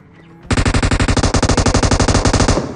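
An M249 machine gun fires in the PUBG Mobile video game: one loud, continuous burst of about two dozen rapid, evenly spaced shots, starting abruptly and sounding close, with no talk over it.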